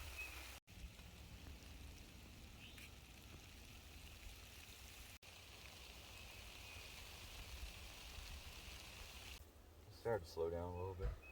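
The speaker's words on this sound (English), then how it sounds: "It's starting to rain ever so slightly." Soft, steady hiss of light rain falling outdoors at an off-grid property in Alabama, continuous and even throughout, with a brief voice and rustle near the end.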